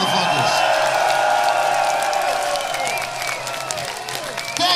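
Sold-out concert crowd applauding and cheering at a Winery Dogs show in Bratislava, a loud continuous roar of clapping and shouts with whistles and ringing tones threaded through, easing slightly before swelling again.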